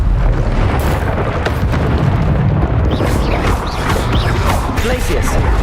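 Confringo fire spell explosions in the video game Hogwarts Legacy, heavy booming blasts and rumbling debris layered with a loud, dense combat soundscape and faint crackling sparks, continuous and close.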